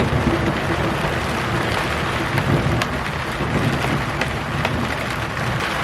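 A storm pours steady, heavy rain in a dense, continuous hiss, with low thunder rumbling underneath throughout; loud and close, with no voices.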